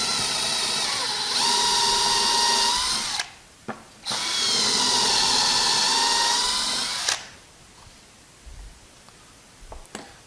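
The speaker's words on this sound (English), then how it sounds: "You just drill your holes down here" A power drill bores holes into box-store construction lumber for a table build, running in two long, loud whining bursts separated by a short pause, then a few faint knocks.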